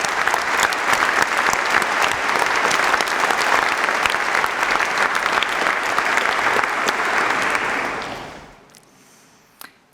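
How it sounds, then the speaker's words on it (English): An audience at an AI institute's opening event claps in sustained, dense applause for about eight seconds before it fades out, followed by a single faint knock. "I think they deserve an applause for that"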